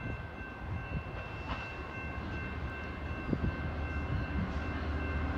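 CN freight train 148 on the north track approaching Peel on the Halton Subdivision, with an EMD locomotive trailing second, rumbles steadily at a distance with a continuous roar and faint wheel clatter throughout.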